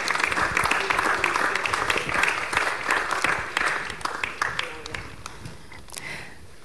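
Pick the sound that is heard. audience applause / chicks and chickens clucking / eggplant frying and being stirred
audience applause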